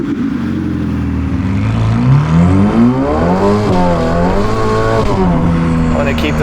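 A Novitec Ferrari F8 N-Largo's 3.9 engine bellows loudly through its exhaust on South African streets, with a close, continuous roar whose pitch swells and dips as the car revs and eases off.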